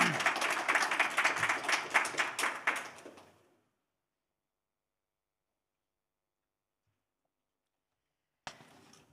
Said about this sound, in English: give an applause to Paula